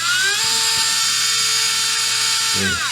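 An RC brushless motor spins up with a high, steady whine, holding its pitch for a few seconds before winding down with a few faint clicks.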